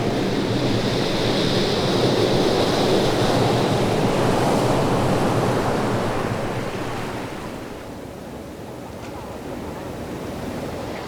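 Sea waves wash steadily around a fishing boat, a continuous loud surf with wind noise that eases slightly toward the end, no speech.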